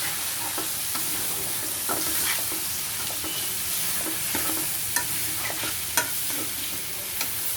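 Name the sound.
stir-frying water lily stems in a pan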